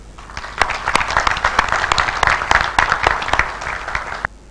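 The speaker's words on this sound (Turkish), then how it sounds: "Bir kez daha alkışlıyorum." Audience at a Turkish export figures announcement breaks into applause, a dense burst of many hands clapping for several seconds before stopping abruptly, fairly close and loud.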